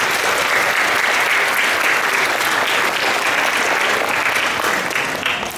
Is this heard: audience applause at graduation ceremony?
yes